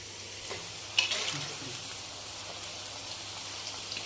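Raw banana chips frying in hot oil while being stirred, a steady close sizzle with rain-like crackle and occasional scraping knocks, no voices.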